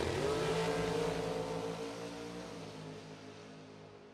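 A drag racing dragster at a bracket nationals event roars loudly in a sustained, slowly falling engine howl as it runs down the strip, fading toward the end with a sharp cutoff.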